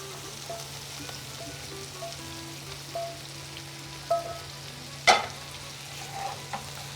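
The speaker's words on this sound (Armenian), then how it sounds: "Այո, հիմա մենք արդեն խառնում ենք մեր տապակված միսը եւ բանջարեղենը։" Fried meat and vegetables stirred together in a pan, a soft, low sizzle under scattered utensil scrapes and clinks, with one sharper metallic clank partway through.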